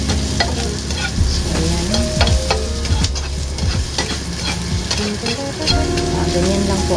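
White onions sauté in hot oil in a pan, with a loud, steady sizzle and frequent scraping stirs close by, while a voice speaks briefly.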